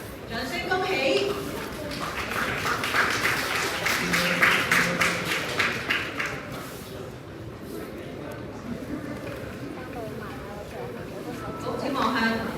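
Applause for student award winners at a Hong Kong technology competition prize ceremony, a burst of clapping that swells over the first half and fades, with voices and chatter underneath throughout.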